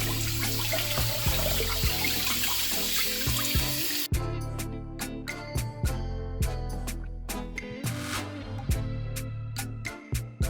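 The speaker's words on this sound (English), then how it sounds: "We're gonna rinse it under cold water." Tap water runs steadily into a sink, splashing and gurgling, with occasional knocks and clatters as a turkey is rinsed under the cold stream.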